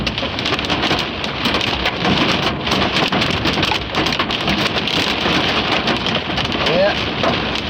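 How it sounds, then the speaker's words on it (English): Golf-ball-sized hail in a severe thunderstorm near Dallas pours down as a loud, dense, continuous hammering roar of ice striking surfaces, steady throughout with no voices over it. "we got a hailstorm"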